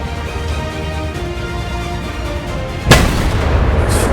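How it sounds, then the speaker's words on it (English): A video game tank's main cannon fires an explosive round: a single sharp, heavy boom cuts through a dense, rumbling battle din, followed by a lingering roar of engine and ambience. "Explosive round to the face again."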